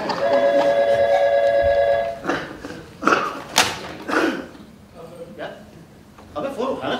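A telephone rings with a steady electronic bell tone for about two seconds, then stops; afterward indoor thumps and a voice speaking follow.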